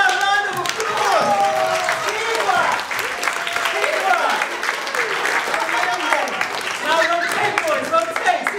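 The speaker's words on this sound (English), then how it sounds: "Round of applause!" A group applauds after a teamwork chair challenge at a British Science Week event, lively continuous clapping mixed with excited voices and cheering throughout.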